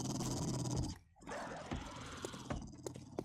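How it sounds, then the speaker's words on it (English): A dog growling inside a building in 7 Days to Die alpha 15, Navezgane: low rough snarls over steady game noise, with a brief dip in the middle and a few sharp clicks and thuds toward the end. "there's a dog in here"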